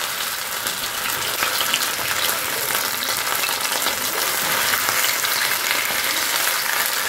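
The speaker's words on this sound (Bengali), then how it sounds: "একটু সটে করবো এখন চিকেনটা।" Chicken sautéing in a pan with little oil over high heat: a loud, steady, dense sizzle that holds unbroken throughout, with faint stirring beneath and no talking.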